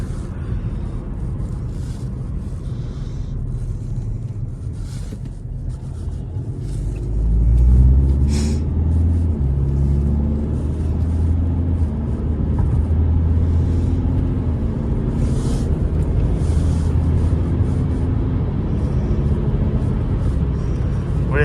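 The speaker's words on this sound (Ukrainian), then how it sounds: "класно ця інсігнія їздить, вона так плавно йде" An Opel Insignia B with a 170 hp engine on a test drive in Poland: a steady, loud engine and road rumble heard from inside the cabin, swelling briefly as it accelerates, then holding an even drone.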